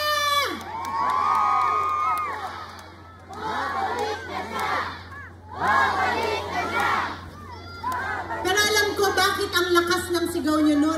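A large crowd at a political rally in Manila shouts, cheers and chants in loud rhythmic waves, with a whistle-like shrill tone near the end and voices amplified close.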